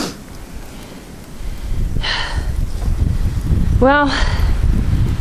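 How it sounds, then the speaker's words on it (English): Gusting wind in a Connecticut snow blizzard at night, a steady low roar swelling and buffeting the microphone, with brief breathy bursts and a dog's snort or whine near the end, while someone speaks briefly. "I want to try to show you the gust."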